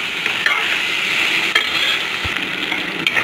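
A single tomato sautéing in a pan for a mushroom biryani, giving a steady close sizzle with a few soft stirring scrapes and light clicks, and no voices.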